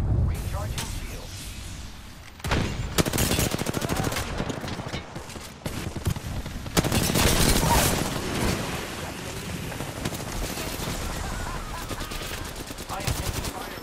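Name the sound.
gunfire in the Apex Legends video game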